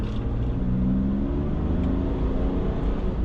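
An Aston Martin Rapide engine revs steadily under light throttle in a quiet mode, its exhaust muffled and droning low with rising harmonics, close and continuous with no talking.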